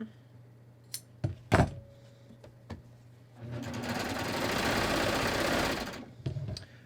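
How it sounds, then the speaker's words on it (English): A sewing machine stitches a pocket onto shorts. A few sharp clicks come first, then a steady close whirring run of about two and a half seconds, then more handling clicks. "I'm going to take that little stitch pad and stitch onto it"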